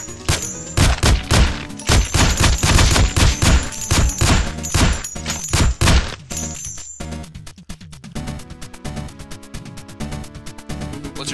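Rapid bursts of gunfire in the pixel-art game Infectonator: Survivor, dense loud volleys of shots for the first six seconds, then sparser crackling shots and clinking pops continuing to the end.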